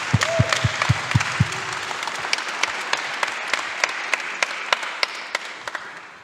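Applause from a summit audience honoring a panel member, steady clapping throughout with a few sharp claps standing out close by, and no talk over it.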